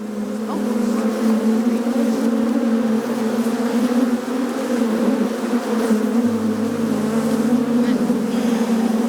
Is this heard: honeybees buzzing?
yes